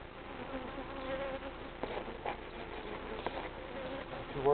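Honey bees buzz in an overwintered top bar hive during an inspection, a steady dense drone with a few brief knocks and a louder burst at the end.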